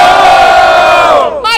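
A crowd at a rap battle semifinal in Brazil roars and shouts loudly and continuously in a dense wall of cheering that tapers off near the end.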